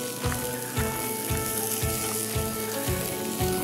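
Ribs cooking on a folding barbecue at a campsite, with a steady sizzle and a regular thumping pulse underneath, close and fairly quiet, with no talking.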